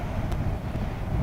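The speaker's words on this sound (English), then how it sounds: "It's quite breezy at the moment." Wind buffets the microphone during a ride on a Honda NC750 motorcycle on a breezy day, a steady loud low rumble with no talking.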